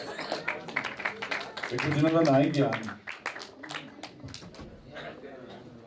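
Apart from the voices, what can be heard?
audience applause for the poet Gyan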